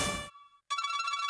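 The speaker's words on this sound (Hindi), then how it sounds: "भाई फोन आ रहा है आपका।" A phone ringtone plays in bright electronic tones, cuts off briefly, then resumes with a steady repeating melody, loud and close.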